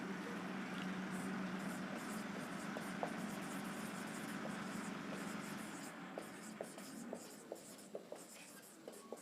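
Writing on a board during a physics lesson on special relativity, soft scratching and tapping strokes, faint and irregular, with more distinct taps toward the end under steady background hiss.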